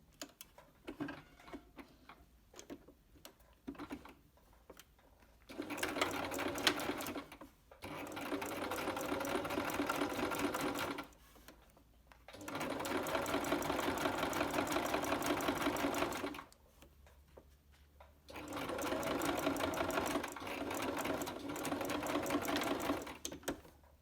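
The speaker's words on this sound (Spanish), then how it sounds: "ahí vamos a pasar pie de máquina, toda una costura recta" A sewing machine with a standard presser foot stitches a straight seam along trouser fabric at the front zip. Three long, steady runs of rapid, rhythmic stitching are separated by short quiet pauses, close and clear with no talking.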